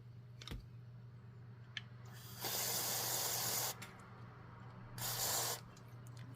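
Bursts of aerosol spray onto the switch contacts of a scratchy Astatic D-104 microphone on a T-UP9 stand hiss close by in two bursts, the first longer, over a low steady hum with small clicks.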